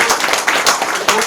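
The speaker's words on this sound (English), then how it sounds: "We can applaud, give them a good applause" Brief burst of audience clapping at a religious gathering in Nepal, a loud, dense patter of many hands lasting just over a second with no talk.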